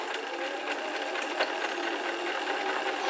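A Janome 525s sewing machine stitches a buttonhole with a steady, close whirring drone that runs unbroken for about three seconds, no voices.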